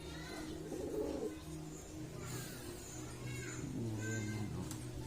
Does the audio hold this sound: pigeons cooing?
yes